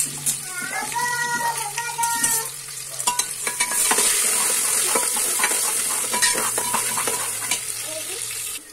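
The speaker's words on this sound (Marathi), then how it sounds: "त्याच्यामध्ये कांदा टाकून मी भाजून घेते, चांगला कांदा." Chopped onion frying in a pan of oil with whole spices, a loud continuous sizzle with frequent stirring scrapes and clinks. A voice is briefly heard near the start.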